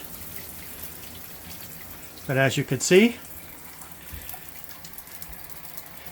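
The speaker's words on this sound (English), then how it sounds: "Now that's just the residue pressure that's built up in that tank. And that'll just run right out." Residual pressure pushes water out of a storage tank at an off-grid cabin, a steady, fairly quiet rushing hiss that runs the whole time while someone speaks briefly over it.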